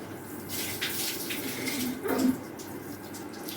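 Running tap water splashes steadily over items being washed at home, a soft continuous gush with a brief louder burst midway, no voices.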